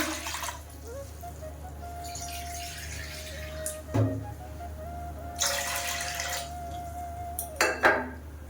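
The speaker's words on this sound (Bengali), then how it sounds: "কড়াইতে জল দিয়ে দেবো।" Water splashes into a wok in short bursts for boiling teasel gourds, with a low kitchen hum underneath and a few faint clinks of pots and utensils.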